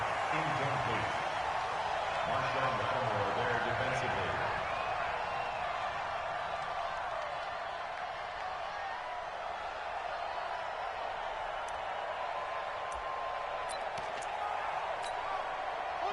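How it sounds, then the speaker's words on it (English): Steady roar of a stadium crowd inside a domed arena during an American football game in Madden on PS4, a dense continuous wash of noise throughout. "The crowd here in the Dome making things difficult."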